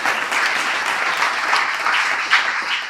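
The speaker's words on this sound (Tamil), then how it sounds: "உணர்ந்து கைதட்டுறாங்க தம்பிய." Steady, loud audience applause at a Tamil debate event honouring Kamarajar's birthday, a dense crowd clapping continuously throughout with no pause.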